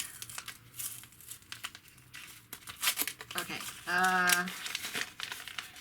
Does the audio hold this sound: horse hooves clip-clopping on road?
no